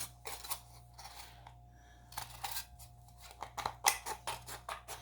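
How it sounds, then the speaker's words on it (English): Scissors snip through the bottom of an aluminum soda can in a run of crisp, close metallic cuts, pausing briefly then speeding into rapid bursts, with a faint steady hum beneath. "when I start cutting the bottoms off, I cut somewhere on either side of the calorie chart thing"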